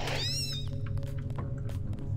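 Cat meowing inside the Deus Ex game, a single clear rising-and-falling meow at the start over a steady low game background hum, with faint scattered ambient sounds afterward.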